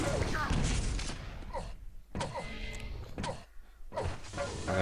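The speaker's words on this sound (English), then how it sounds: "A bit of rocket damage." Rocket blasts and explosive thuds from a Quake match in a 125 FPS league game, loud bursts with brief gaps between them, under a commentator's continuous talk.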